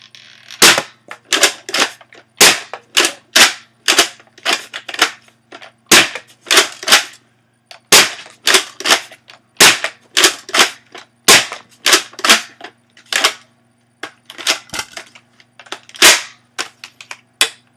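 A modified Nerf bullpup blaster fires darts in a long rapid series of sharp, loud pops, roughly two per second, close by, with a faint steady hum underneath and no talking.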